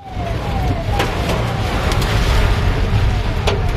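A siren from a police car or ambulance behind the vehicle wails faintly in slow falling sweeps, almost buried under loud, steady heavy rain drumming with a few sharp drips.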